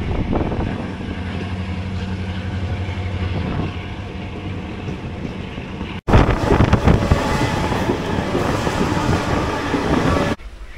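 A 07525 DMU passenger train on the Siliguri to Lataguri local run at Malbazar station rumbles with steady engine drone and wind buffeting, then louder clattering roar after an abrupt cut midway.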